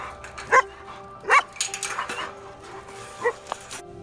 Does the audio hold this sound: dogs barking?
yes